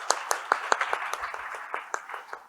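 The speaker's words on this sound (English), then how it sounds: "can we have a round of applause for all of them?" A modest round of applause from the audience at a marketing and brand conclave, individual claps standing out in a loose, uneven rhythm that thins toward the end.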